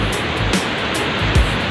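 Tuasan Falls on Camiguin Island pours in a steady broadband rush of falling water, heard nearby and continuous, with a few faint knocks through the short stretch.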